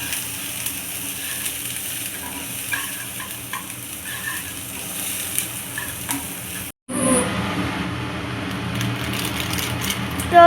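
Onions fry in a kadai as a street cook stirs them for Maggi noodles, a steady close sizzle and scraping, with a brief cut before the frying resumes louder.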